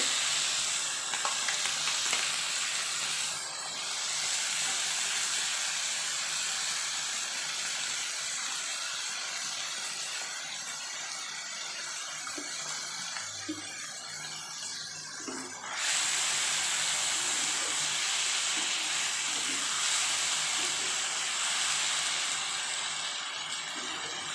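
Boiled tomato paste dropped into a hot frying pan for a sour lata fish curry, a steady close sizzle and hiss with light stirring, dipping briefly then surging louder again, no voices.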